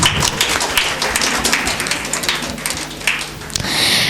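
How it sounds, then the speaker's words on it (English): Audience applause at an alumni day award ceremony at a government engineering college in Tirunelveli, a dense steady wash of many hands clapping that fills the room throughout. "Please give the big round of applause for them."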